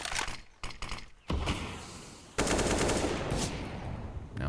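Gunfire in a Counter-Strike match on the Inferno map: a burst of sharp shots opens, then a dense, loud wash of rapid fire and clatter continues to the end, with no talk over it.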